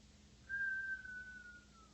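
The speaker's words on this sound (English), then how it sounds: "you're going to exhale through puckered lips as a whistle." A single soft, steady whistle exhaled through puckered lips during Kundalini yoga breathing, sustained for over a second, slowly dropping in pitch as the breath runs out, in a quiet room.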